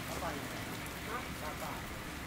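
Heavy rain falls steadily during a flood in Thailand, a dense, constant hiss over the whole stretch with faint splashing and no clear voices.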